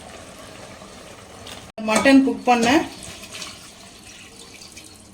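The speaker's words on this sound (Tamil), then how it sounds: "இந்த குக்கர்லேயே தண்ணி வந்து சேர்த்துட்டேன்." Water pours briefly into a pressure cooker for about a second, splashing and gurgling, while a person speaks quietly nearby, during mutton biryani cooking.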